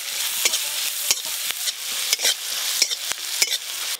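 Whole fennel, cumin, chopped ginger and green chilli frying in butter for butter paneer. A close, lively sizzle is broken by frequent sharp scrapes and taps of a spatula stirring in the pan, with no talking.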